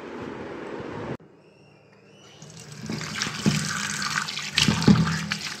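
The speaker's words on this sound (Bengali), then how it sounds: "আমগুলোকে ভালো করে ধুয়ে নিচ্ছি আমি।" Raw green mangoes rinsed under a running kitchen tap, a steady splashing flow of water with handling noises, briefly pausing before resuming louder, with no talking.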